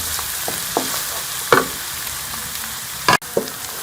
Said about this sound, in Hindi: लहसुन को भी प्याज के साथ 1 से 2 मिनट के लिए भून लेंगे।